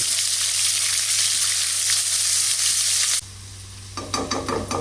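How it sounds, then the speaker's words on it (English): Sliced white onions fry over a high flame in a karahi for paneer: a loud, steady sizzle for about three seconds, then a quieter hiss with bursts of stirring and scraping. "add sliced onions. Put them on a high flame until they are nicely brown."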